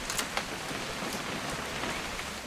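Rain in What Remains of Edith Finch: a close, constant patter of drops on a surface, with a few sharper splats standing out against the steady hiss.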